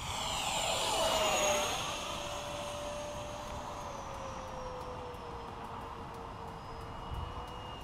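An E-flite F-15 RC model jet makes a low, full-throttle pass: a loud whining roar swells near 1.5 seconds with a falling Doppler pitch, then settles into a steadier high whine that fades slowly as it moves away.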